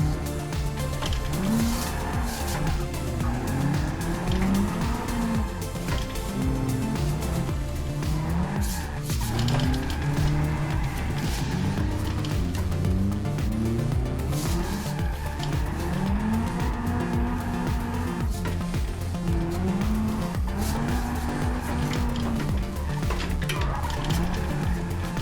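Drift car tyres squeal continuously in the video game BeamNG.Drive, with a loud, sustained engine drone that rises and falls with the throttle on a touge mountain road and no talking over it.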